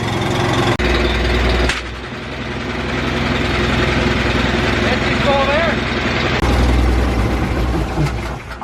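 An air compressor runs steadily from start to finish, a loud continuous motor drone with a brief change in pitch partway through, heard alone with no talking.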